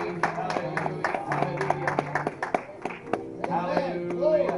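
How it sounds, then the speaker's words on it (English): A church congregation claps hands in praise during an evening service, with sharp, fairly regular claps under loud voices calling out and singing. "Give them a hand clap of praise"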